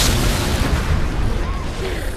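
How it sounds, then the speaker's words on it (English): A big explosion from a skill move in the zombie game Dead Rising 4, a loud, dense rumbling blast that fills the whole stretch with heavy low-end booming and crackling debris, fading slightly toward the end. "It's just a big explosion."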